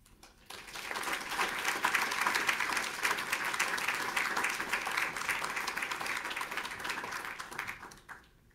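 Sustained applause from an audience at a journalism awards celebration for its winners, a dense, even wash of clapping that swells quickly, holds for several seconds and then fades away.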